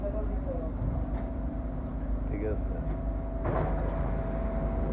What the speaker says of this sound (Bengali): এই যে আরেকটা মেট্রো স্টেশনে থামলো